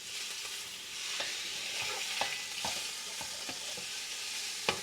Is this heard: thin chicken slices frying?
yes